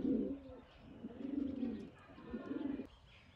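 Sialkoti pigeons coo in three low, rolling phrases, each swelling and fading over a second or so, close by and fairly soft, with no one speaking.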